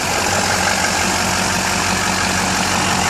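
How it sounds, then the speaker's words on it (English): A diesel engine idles steadily and loudly up close, a constant low rumble with a busy mechanical clatter and no voices over it. "You could probably barely hear me with the diesel engine going"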